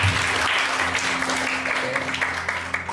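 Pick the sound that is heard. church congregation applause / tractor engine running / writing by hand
church congregation applause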